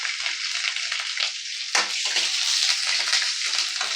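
A tempering of mustard seeds, fennel, curry leaves and green chillies frying in hot oil, a bright, dense close crackle and sizzle with a brief stirring clatter midway.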